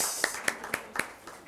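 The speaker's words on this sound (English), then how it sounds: "She needs a big round of applause." At a medical seminar on ROP and retinoblastoma, a handful of sharp, evenly spaced hand claps ring out close by and quickly fade to quiet.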